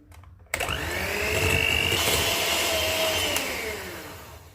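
An electric hand mixer whirs loud and close through eggs, milk and vanilla essence for a coconut dry cake, starting abruptly and holding a steady motor drone that slowly fades near the end.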